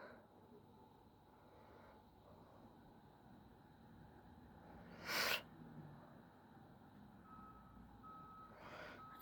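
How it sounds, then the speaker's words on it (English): A bus reverses on a street with a faint, regular electronic beeping tone, a single sharp burst of noise midway and another near the end. "Wait, is that another bus?"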